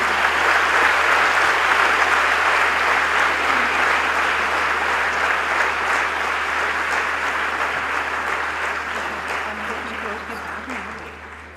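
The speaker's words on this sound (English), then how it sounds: "please join us to give a big round of applause to the recipients of degrees" Sustained applause from a large convocation audience honoring degree, award and medal recipients at Lahore College for Women University, loud and dense at first, then slowly tapering toward the end.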